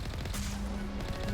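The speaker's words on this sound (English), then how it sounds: "Alright, so being shot at again." Gunfire in the video game Mass Effect 1, a dense run of rapid shots and bursts close up, filling the short moment without pause and with no talk.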